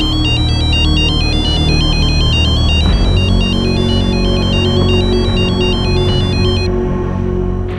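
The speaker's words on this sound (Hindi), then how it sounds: "अरे कोई कांति को फिर से फोन लगा दो, मैं बात करूंगी।" An electronic phone ringtone plays loudly and continuously, a repeating melodic pattern of bright tones over a low background hum.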